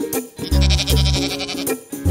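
A sheep bleats in two wavering, drawn-out calls, loud and close, with short pauses around them.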